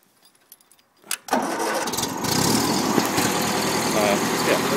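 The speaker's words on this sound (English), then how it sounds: "Quick hop on, this has got an ignition start" A Ferguson TE20 tractor is started with its ignition: a few quiet clicks and handling noises, then a short cranking burst, and the engine catches and settles into a loud, steady running chug that continues to the end.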